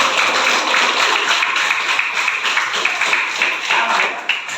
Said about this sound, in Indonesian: Kita berikan tepuk tangan, Rio.